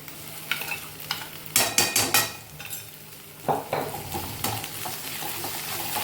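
A spoon scrapes and clatters in a pan as crushed ginger-chili paste is stirred into a frying dal tadka, sharp metallic knocks in quick clusters over a soft sizzle, close and clear with no talking.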